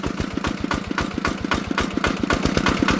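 A walk-behind tractor's small engine runs just after starting, a loud, close, rapid chugging beat with a steady pulsing rhythm throughout.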